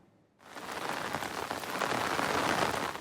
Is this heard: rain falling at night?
yes